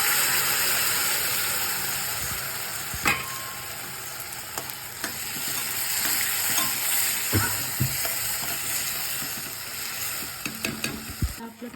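Spinach paste hitting a pan of lightly browned onions, a steady loud sizzle and frying hiss with occasional clinks and scrapes of a spoon stirring, no talking.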